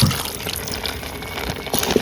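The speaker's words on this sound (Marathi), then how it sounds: "अजून थोडासा पाणी टाकतंय त्याच्यात" Hot water pours into a dried-mackerel chutney being cooked in a village kitchen, a steady close splashing gush that runs for about two seconds and rises slightly at the end, with no talk.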